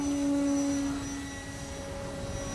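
An FMS PA-18 Super Cub RC plane, 1700 mm span, runs its electric motor at full throttle for takeoff at a flying field, a steady loud whine with a sustained tone that eases slightly partway through.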